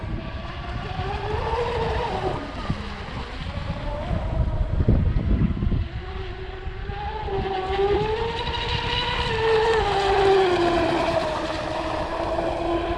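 Proboat BlackJack 42-inch RC boat with its stock motor and prop running on White Birch Lake, a steady whining motor drone rising and falling in pitch as it moves, with wind buffeting the microphone throughout.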